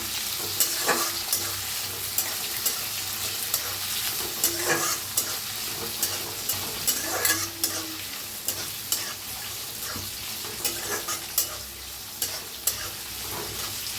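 Curry leaves frying in hot oil in a pan for a spicy stuffed-chili dish, a steady broadband sizzle with periodic louder scrapes of stirring, close and alone without any voices.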